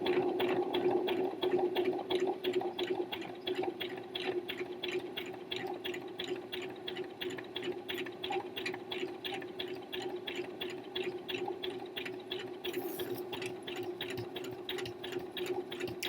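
A home sewing machine back-stitches the seam of a boxy tee, its needle hammering in a rapid, even mechanical clatter with a steady whirring hum, running continuously and close by.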